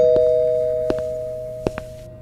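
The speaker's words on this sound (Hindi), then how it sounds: "किसी ने अतुल के घर की घंटी बजाई" A doorbell chime rings out and slowly decays, with a few soft knocks or clicks scattered through the fading tone.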